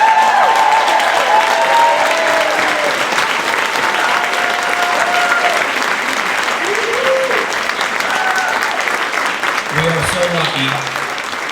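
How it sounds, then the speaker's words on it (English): A large audience applauds at a US athletics celebration, sustained even clapping that carries on for several seconds while a voice talks over it near the end. "Maureen deserves a huge round of applause"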